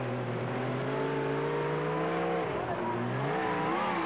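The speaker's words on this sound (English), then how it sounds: "they're certainly having some trouble getting that Volvo out of the ditch." A Volvo C303 ex-army off-road vehicle stuck in a ditch revs its engine hard, a loud sustained drone that climbs, dips sharply, then surges again, heard close with no talking.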